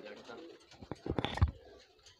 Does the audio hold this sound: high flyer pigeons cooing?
yes